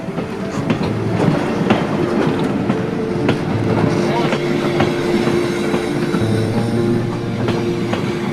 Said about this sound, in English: Feel the stomping, steam development and pulling power of the mighty steam train locomotives.